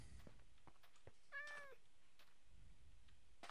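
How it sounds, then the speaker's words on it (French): A single short meow from a small cat in a hardcore survival video game, faint and alone against quiet background noise. "Est-ce qu'il vient le petit chat?"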